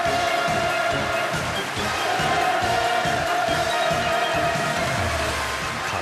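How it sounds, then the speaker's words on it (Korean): A large audience at a party training session in North Korea breaks into enthusiastic cheering and applause, a dense continuous roar of voices and clapping that holds steady throughout. "열광의 환호를 터쳐 올리었습니다"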